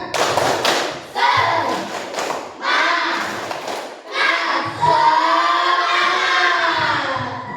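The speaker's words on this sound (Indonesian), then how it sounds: "Tepuk semangat." A group in a coding and artificial intelligence training session claps together in a rhythmic spirit clap, loud patterned bursts of hand claps mixed with voices calling along.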